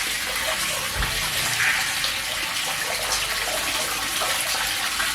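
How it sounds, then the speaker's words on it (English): Water spilling steadily from an overflowing water tower tank, a continuous close splashing rush with no talk over it. "And then it overflows."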